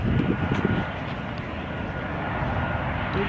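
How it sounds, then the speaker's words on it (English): Aeroplane flying overhead near an airport on Ibiza, a loud, continuous low roar that fills the air, with a brief burst of rustling or voices at the start. "Aeroplane."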